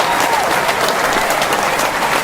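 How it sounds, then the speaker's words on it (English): A studio audience applauds after a talk-show interview, dense, even clapping that is loud and close throughout. "So one more applause out for you."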